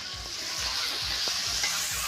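Food fries in hot oil in a pan with a steady, bright sizzling hiss, while a utensil stirs and scrapes in a regular rhythm of soft thumps about every third of a second.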